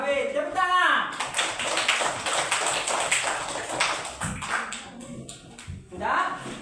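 A classroom of students clapping their hands in a burst of scattered, uneven claps, mixed with children's voices and a teacher talking over the noise.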